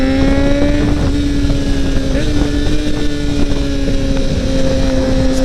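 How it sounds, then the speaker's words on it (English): A 2012 Kawasaki ZX6R sport bike being ridden on the road, its engine holding a steady, smooth drone with strong wind rush throughout, close and loud with no breaks. "This bike is so smooth, it's ridiculous."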